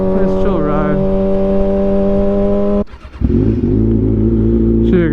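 A motorcycle engine hums steadily at cruising speed on a relaxed ride, loud and close with strong harmonic drone, briefly dropping and shifting pitch as if changing gear before settling again.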